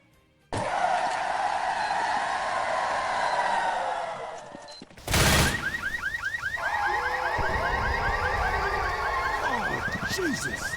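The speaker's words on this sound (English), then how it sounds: "once you plant this bomb, it plays a very familiar sound once it respawns all the zombies" Half-Life 1 sound effect reused in an early Left 4 Dead build when a planted bomb triggers: a loud rising mechanical whine, then a sharp burst and a fast warbling, pulsing alarm-like tone that keeps going.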